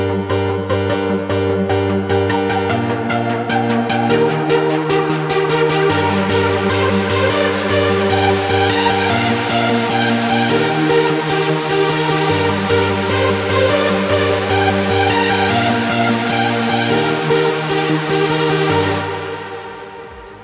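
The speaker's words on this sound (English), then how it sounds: "This is just a simple short melody that fits on top of the chord progression" A short synth melody with ghost notes plays in FL Studio over a chord progression. Loud, continuous electronic tones move over stepping bass chords in a steady pulse, then fade out at the end.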